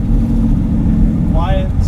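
A Corvette cruises through city streets, its engine holding a smooth, steady low drone from inside the cabin while someone talks over it.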